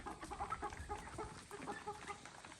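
White leghorn and American breed chickens cluck steadily at close range, with overlapping soft calls from several birds and no talk.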